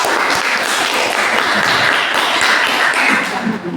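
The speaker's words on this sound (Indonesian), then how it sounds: "silakan tepuk tangan dulu untuk kelompok 4" A classroom applauds group 4 after its presentation, a continuous loud patter of many hands clapping together that holds steady and eases slightly at the very end.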